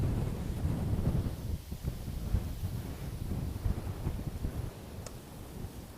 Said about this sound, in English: God, that's so much fucking wind